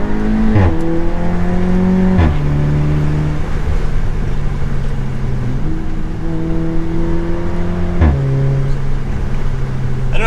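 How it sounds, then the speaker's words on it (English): A turbocharged Audi S3 engine revs up and down through the gears while driving, with close, loud, continuous engine drone and several distinct gear-change shifts in pitch. "you can really hear that turbo"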